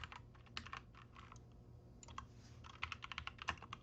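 Rapid clusters of computer keyboard keystrokes, typed in bursts with short pauses between them, close and clear over a low steady background hum, with no talking.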